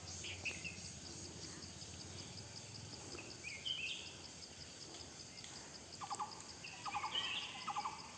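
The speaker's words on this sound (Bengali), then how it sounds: "এই দেখুন, এই পাখি আর এই পাখি।" Faint bird chirps and short calls rise now and then over a constant high hum of insects and crickets beside a quiet forest road near a riverside homestay, sounding distant and soft.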